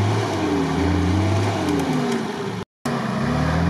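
Serious off-road car, likely a Suzuki Samurai, revving hard at the start line of an off-road event, a loud continuous engine roar with rising and falling pitch, briefly cut silent near the end.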